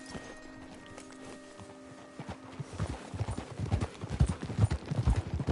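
Horses' hooves clip-clop in a video game, starting soft and growing louder and nearer as several animals trot past in an uneven rhythm, with a faint whinny early on.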